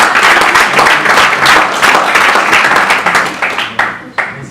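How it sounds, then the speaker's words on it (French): An audience applauds a volunteer who has been called up in front of the group: dense, steady clapping that thins out and fades near the end, with scattered individual claps. "On peut l'applaudir."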